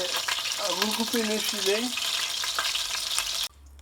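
Chicken pieces frying in a pan for a chicken with almonds and caramel dish, a loud steady sizzle that cuts off near the end, with a few spoken words over it.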